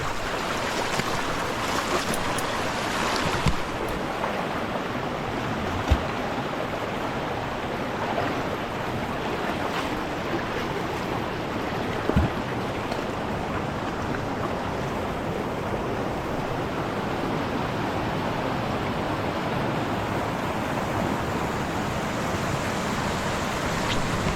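A forest waterfall on a rocky stream in the Thai jungle rushes as a steady, broad wash of falling water, continuous and moderately loud, with a few faint knocks.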